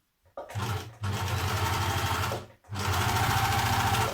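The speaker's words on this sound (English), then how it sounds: "So I'm just going to whip round the bottom on the overlocker, just so that it gives me a nice flat edge to hem on." An overlocker hums loudly and steadily in close runs, pausing twice briefly, as it finishes the bottom edge of a dress.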